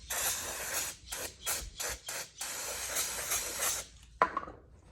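Cleaner sprayed onto the throttle body of a 2008-2014 Cadillac CTS, a series of quick hissing spray bursts, close and moderately loud, ending with a sharp click near the end.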